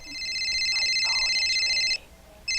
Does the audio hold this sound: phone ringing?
yes